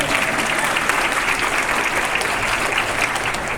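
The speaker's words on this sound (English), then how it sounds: "Can I have a round of applause for them?" A crowd claps steadily, a dense, even round of applause filling the room at a martial arts academy anniversary event.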